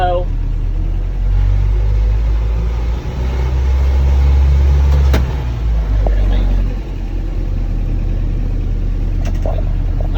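A vehicle engine runs steadily in low gear, giving a loud, deep idling rumble that holds throughout, with a brief metallic click partway through.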